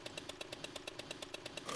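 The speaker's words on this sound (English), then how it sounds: "of exhaust, Fujini disappears like a bullet." A motorcycle exhaust in a visual novel video game gives a fast, even pulsing putter, a steady rhythmic engine note that is fairly faint and heard alone without talk.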